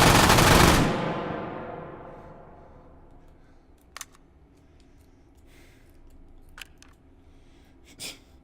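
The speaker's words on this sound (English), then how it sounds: "a man fires an MG42 from the hip" An MG42 machine gun fired from the hip in the H3VR virtual reality game opens with a loud, dense burst of automatic fire. The burst then decays into a long reverberant tail, with a few faint clicks and handling sounds afterward.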